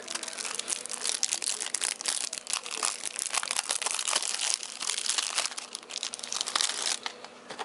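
Plastic and paper packaging of a Yu-Gi-Oh Realm of the Sea Emperor structure deck crinkles and tears as it is opened, a steady close-up run of rustling and crumpling with no talking.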